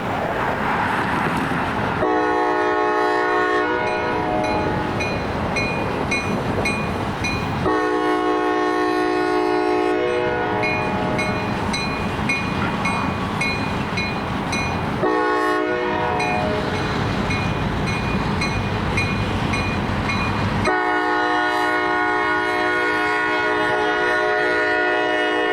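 Locomotives hauling train L316 roll past idling engines in the Parma rail yard. A loud, steady rumble runs throughout, and the multi-tone horn sounds repeatedly in long blasts separated by short gaps.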